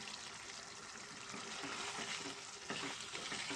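Chicken frying in a pan gives a steady, close sizzle with crackling and occasional stirring clatter throughout, getting slightly louder toward the end, with no talking.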